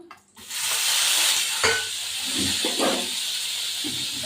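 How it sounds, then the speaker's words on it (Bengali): Onions hiss and sizzle loudly in a hot pan with whole spices for chicken biryani, a steady close frying roar with a few soft stirring scrapes. "পেঁয়াজগুলো ভাজবো একটু"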